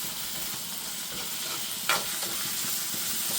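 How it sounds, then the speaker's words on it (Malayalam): Onion, green chili and ginger-garlic paste sizzle steadily in a hot pan while being stirred, with one brief scrape of the spatula partway through and no voices. "അതും വെച്ചൊന്ന് വഴറ്റിയിട്ടെടുക്കാം."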